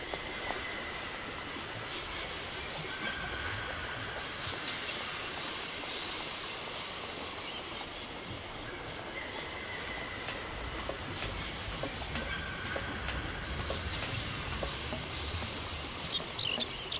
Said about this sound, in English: Oh, I'm trying to get to my train.